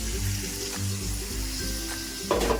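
Churned curd hits a hot pan and sizzles steadily for a few seconds, with a soft tonal melody running underneath and a brief louder burst of hissing near the end.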